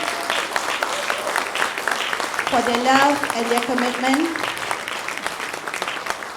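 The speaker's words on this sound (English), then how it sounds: "please give me one chance in giving the loudest applause that you can for all the teachers in Bukit Jelutong" Audience applause for teachers at a 2018 graduation ceremony in Bukit Jelutong: a steady, dense wash of clapping fills the hall while a speaker keeps talking over it.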